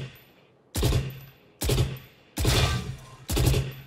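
Phantom rifle fire in the Valorant shooter game, four short automatic bursts evenly spaced with sharp, loud reports and brief silences between.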